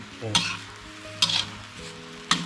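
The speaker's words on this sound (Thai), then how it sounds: "เรียบร้อยก็ผัดต่อครับ" Shan-style yellow noodles are stir-fried in a pan, with a continuous sizzle broken by three sharp scraping strokes of the spatula at a loose, uneven rhythm, close by, with no talking.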